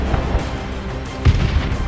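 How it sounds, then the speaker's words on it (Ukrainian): Booming artillery fire in a strategy video game, several dull low thumps over a continuous rumbling background of battle noise. "А, це моя артилерія."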